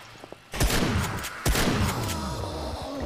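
Gunfire in the video game 7 Days To Die during a zombie horde fight: two loud, close blasts about a second apart, each trailing into a long rumbling echo.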